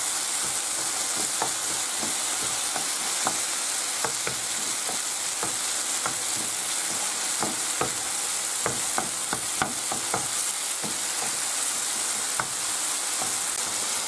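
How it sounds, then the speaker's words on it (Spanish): Chorizo sizzling in a pan with sautéed tomato and garlic, a constant close frying hiss broken by frequent sharp scrapes and taps of a spoon stirring through the mixture. "ahora echamos el chorizo y lo volvemos a rehogar"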